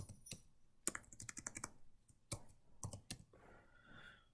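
Computer keyboard typing a spreadsheet title, close and crisp, with irregular bursts of key clicks and a few louder taps, no talking.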